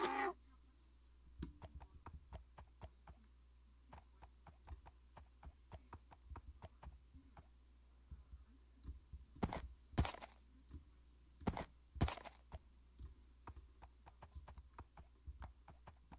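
Hooves of a donkey in Minecraft clip-clopping in a steady, fairly quick rhythm, quiet and close, with a few louder clattering knocks partway through.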